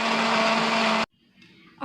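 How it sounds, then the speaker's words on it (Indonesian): A kitchen blender grinds shallots and garlic for anchovy sambal, roaring loud and steady with a high whine for about a second, then cutting off abruptly into near silence before a brief clatter. "Kemudian kita blender. Blender hingga halus."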